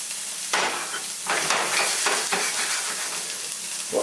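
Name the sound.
onion and green pepper sizzling in oil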